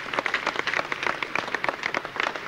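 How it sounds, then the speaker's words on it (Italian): A crowd applauds toward a red flag lowered to half-mast in mourning, a dense, steady patter of many hands clapping at moderate distance, continuous for the whole stretch with no voices. "l'applauso della folla verso la bandiera a mezz'asta"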